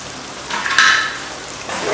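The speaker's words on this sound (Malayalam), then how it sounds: "നല്ലോണം ഇളക്കുക" Coriander powder and chilli powder masala being stirred in oil in a pan, a steady close sizzle and frying hiss with brief scraping of the spoon, swelling in the middle of the clip.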